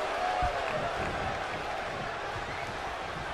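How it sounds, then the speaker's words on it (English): In WWE 2K22, a wrestling arena crowd roars continuously, a dense wash of cheering and applause at steady loudness throughout. "The sound of this crowd is deafening, and he's asking for more."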